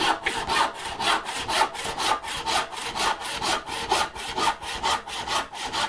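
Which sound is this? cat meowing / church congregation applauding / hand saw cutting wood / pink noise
hand saw cutting wood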